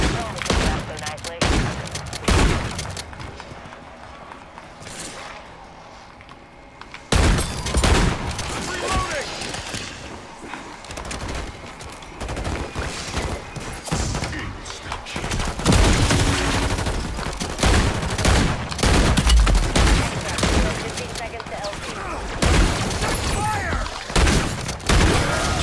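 Rapid bursts of gunfire rip through a Modern Warfare 3 Zombies fight against a mangler, loud and repeated with heavy booms and thuds, broken by brief lulls and overlapping with talk.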